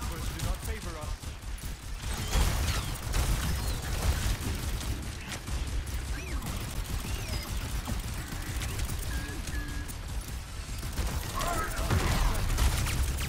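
Mercy fires her blaster in Overwatch 2 during a full PlayStation 5 match: rapid, dense bursts of gunfire and mechanical clatter run throughout, mixed with game effects and someone talking over them.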